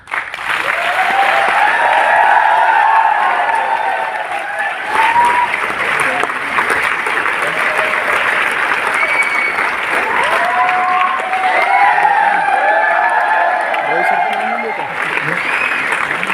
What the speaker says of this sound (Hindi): जोरदार क्लैपिंग होना चाहिए तभी आएंगे